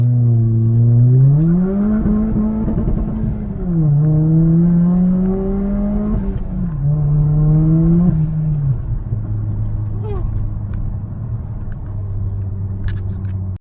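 A turbocharged Toyota Corolla engine pulls hard at about 6 psi of boost, droning upward through rising revs, dipping at shifts and climbing again before settling into a steady lower hum.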